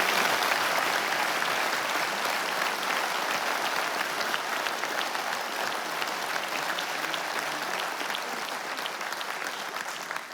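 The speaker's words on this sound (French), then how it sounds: "je pense qu'on peut tous nous applaudir" Audience applause at a town council New Year ceremony, a broad, continuous roar of many people clapping that holds steady for about ten seconds and tapers slightly at the end, with no talking over it.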